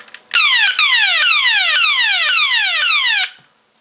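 Loud electronic sound effect from the speaker of a G1 Shockwave toy gun: a repeating series of descending laser-like zaps, about six sweeps in quick succession over roughly three seconds, harsh and close.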